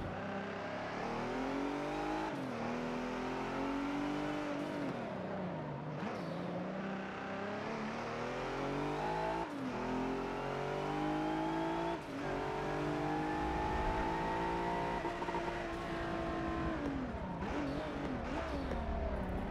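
Pickup trucks race on city streets in Forza Motorsport 7, engines revving and climbing through gears with repeated pitch drops at each shift and brief tire squeals, loud and close throughout with no voices.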